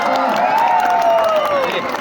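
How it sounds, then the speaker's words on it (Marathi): A festival crowd at a Dahi Handi event in Jamner applauds a women's Govinda team, a dense, continuous wash of clapping and cheering with a raised voice carrying over it. "जोरदार टाळ्या झाल्या पाहिजे"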